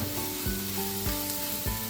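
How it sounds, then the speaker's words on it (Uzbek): Food sizzles steadily in a hot pan while a utensil scrapes and stirs at a regular pace, with a faint hum underneath. "Shundan ozgina birgalikda qovuramiz yana."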